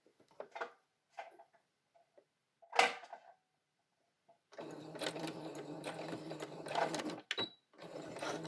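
A sewing machine stitches a hair and mask headband in a steady burst of rapid stitching after a few quiet handling noises and a brief clatter, then stops and restarts briefly.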